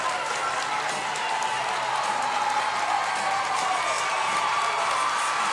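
Spectators at a high school state softball championship game cheer and clap in a steady, dense roar from the stands, with no break in the noise throughout.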